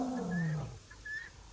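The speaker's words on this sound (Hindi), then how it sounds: "सवाना में एक गूंजती हुई शक्तिशाली आवाज फैलती है।" A lion roars across the savanna in a single powerful, falling call lasting about half a second, followed by a few faint high bird chirps in the open air.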